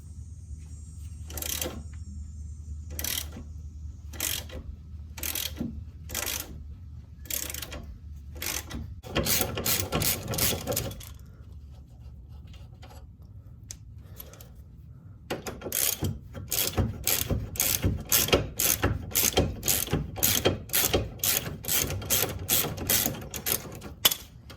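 Rhythmic clicking of a ratchet wrench backing 17 mm nuts and a bolt off a 2003–2008 Toyota Corolla driver-side control arm, steady repeated strokes in bursts with brief pauses, close and alone.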